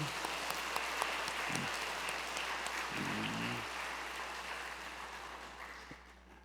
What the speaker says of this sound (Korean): 박수 한번 칠까요 우리 어머니들